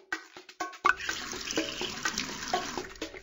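Cartoon water pouring into a pony's watering trough in a Dora the Explorer game, a splashing, gurgling stream that starts with a few short spurts and then runs steadily with bubbly plinks.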